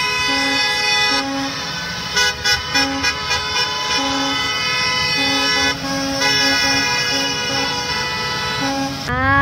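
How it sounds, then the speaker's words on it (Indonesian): A school bus sounds its horn in a steady loud drone, broken by several short repeated toots over a constant engine rumble. "Wow, ternyata ada truk school bus teman-teman."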